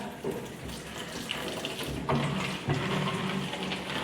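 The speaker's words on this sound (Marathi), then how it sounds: "लावली बॉटल आता भरायला आणि भरली" Water runs steadily from a filter machine into a bottle, a continuous close rush of flow with a few small shifts in tone as the bottle fills.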